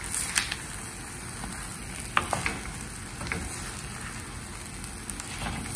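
Tomatoes sizzle and spatter as they are mixed and fried in a clay pot, a steady crackle with occasional sharper pops and stirring scrapes, close and continuous with no talking.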